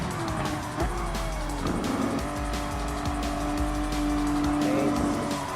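Porsche Cup race cars in Gran Turismo Sport, rear-engined RR supercars on the Dragon Trail seaside track, engines droning loud and steady while tires squeal and slide across several seconds with no talk.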